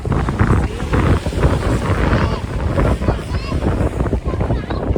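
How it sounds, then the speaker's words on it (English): Strong wind buffets the microphone at a beach in Egypt, a steady loud rumble throughout with possible surf beneath and people talking faintly in the background. "There's a lot of wind and we're just waiting for a hot drink."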